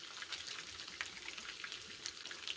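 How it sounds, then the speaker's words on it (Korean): Pork belly sizzles and spits in a hot pan at a campsite, a steady crackling hiss with sharp pops scattered throughout, close and fairly quiet, with no talking. "삼겹살은 튀기듯이 구워야 돼"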